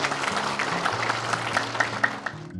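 Audience applause at a school year opening ceremony, a steady patter of many hands clapping at moderate distance, with a low murmur of voices underneath.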